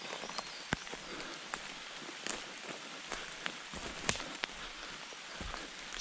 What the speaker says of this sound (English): Started to really rain now.